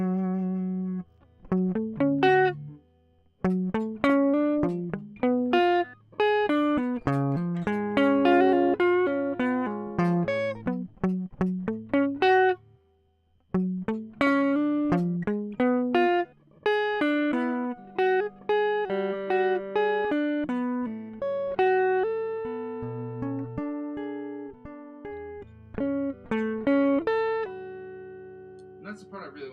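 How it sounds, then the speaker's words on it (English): Electric guitar played through overdrive, picking out a riff of clipped, sustained notes and quick runs for about thirty seconds, close and fairly loud, with brief pauses between phrases and no talking. "This is what the OD riff sounds like."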